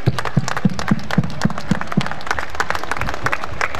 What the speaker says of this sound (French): donc l'applaudir bien fort pour le remercier